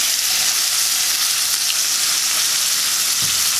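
Steak searing in a smoking-hot pan, a loud, even, continuous sizzle heard up close, with a faint clink partway through and no talking.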